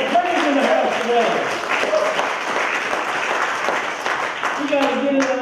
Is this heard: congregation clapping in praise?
yes